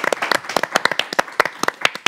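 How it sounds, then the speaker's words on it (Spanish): A short burst of lively applause, many hands clapping together at once, loud and close. "un aplauso."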